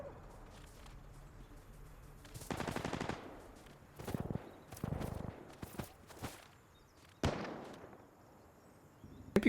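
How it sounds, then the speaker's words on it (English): Gunfire from a .50 caliber weapon in the video game Insurgency Sandstorm, a few sharp bursts and single reports scattered across the scene with quieter footstep-like clicks between them. "That was a 50 cal sound."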